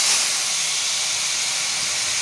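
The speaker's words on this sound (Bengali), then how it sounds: "টমেটোটা ভেজে নিচ্ছি" Tomatoes frying in hot oil right after a tempering of black cumin, a steady broadband sizzle and hiss that stays loud and even throughout, with no talking.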